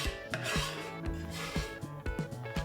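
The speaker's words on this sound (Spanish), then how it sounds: "Vamos a picar perejil" Fresh parsley being chopped with a knife, a run of uneven rhythmic taps and rasping strokes on a board, close and fairly quiet, with no talking.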